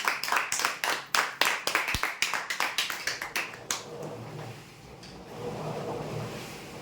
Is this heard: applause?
yes